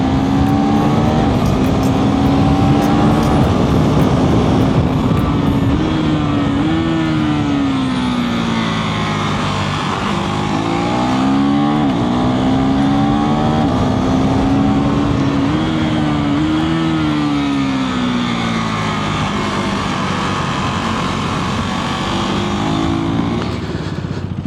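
A 2025 KTM 390 SMC R single-cylinder motorcycle on the move, its engine note rising and falling through repeated revs and gear changes, loud and close with steady wind rush beneath.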